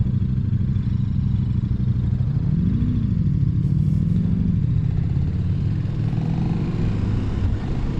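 A KTM Super Duke motorcycle rides along with a steady low engine drone under wind rumble, its pitch swelling briefly as the throttle rolls on and off.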